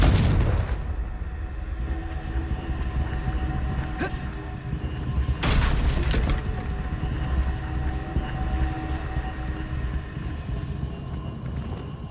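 A Confringo blasting spell in Hogwarts Legacy explodes in a sharp booming blast, followed by a second heavy burst a moment later. Both ring out over a constant low rumbling game ambience.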